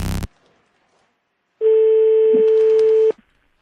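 After a brief click and a second of silence, a steady telephone line tone sounds for about a second and a half as a call connects, then cuts off abruptly.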